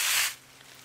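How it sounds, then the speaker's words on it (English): Garden hose spraying water up the undersides of cucumber and squash leaves, a strong close hiss lasting about a third of a second before cutting off to a faint quiet background. "come in with your hose and just spray the"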